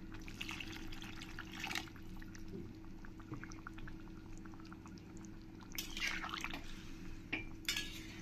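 A little water is poured into a pot of simmering cooked arum and fish curry. Faint splashing pours come in short bursts over a low, steady bubbling.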